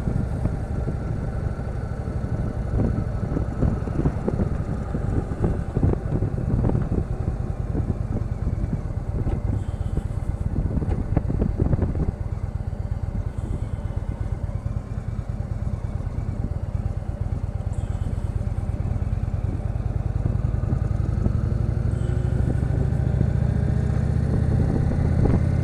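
A 2016 Indian Chief Vintage motorcycle being ridden, its big V-twin engine rumbling steadily and loudly throughout, with throttle rising and falling and a building rev toward the end, no voices.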